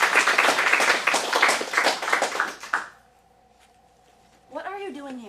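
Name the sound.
audience applause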